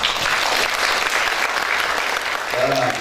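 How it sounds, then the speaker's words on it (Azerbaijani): An audience at Baku State University applauds writer Seyran Səxavət, with a full, continuous round of clapping at strong, even loudness and a voice briefly rising near the end. "Mən istəyirəm əvvəldə Seyran müəllimə bir alqışlayaq."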